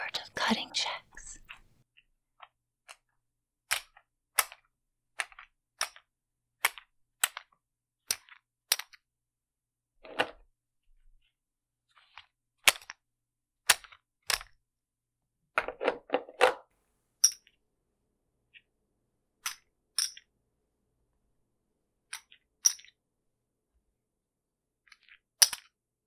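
Casino chips being cut by a professional blackjack dealer give sharp, isolated clacks in an irregular rhythm, close and crisp against near silence, with a few soft whispered passages among them.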